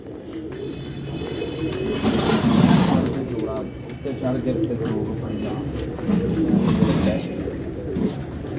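Pigeons coo repeatedly on the rooftop of a pigeon-keeping club, soft low murmurs swelling and fading near the listener, mixed with people talking over them.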